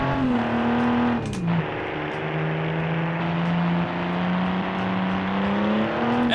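A 1955 sport coupe in a BeamNG driving game accelerates hard from a standstill, its engine tone climbing steadily through a gear change and holding a loud, continuous drone with no talk over it.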